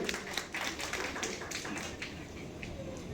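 Applause from an audience at a doctorate celebration for Saroja Gullapalli, a dense spread of claps at moderate volume that fills the whole stretch without pause.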